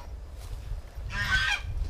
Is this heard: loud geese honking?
yes